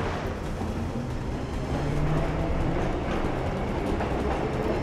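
Steam train rumbling past in the Assassin's Creed 3 video game, a steady, loud, close rolling roar with faint rhythmic clatter of cars throughout, no talking.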